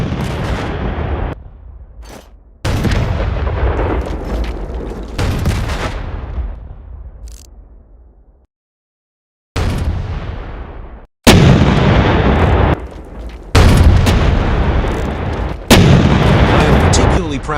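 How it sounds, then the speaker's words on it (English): A tank cannon in a Minecraft Bedrock addon fires repeatedly: heavy booming blasts, each with a long rumbling tail, spaced a few seconds apart with one brief silent gap, loud and close. "Proud of the shooting animations and effects I gave to the tank."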